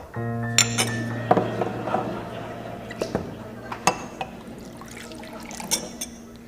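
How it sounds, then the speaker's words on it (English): Whiskey glasses clink at a counter in a series of sharp glassy taps and rings, close and clear, with a faint voice in the background. "At the counter, Red had 2 glasses out, 2 fingers of whiskey in each glass"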